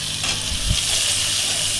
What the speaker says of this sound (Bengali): মশলাগুলোকে হালকা করে নেড়ে নিয়ে আমি এর মধ্যে দিয়ে দেবো পেঁয়াজ কুচিটা।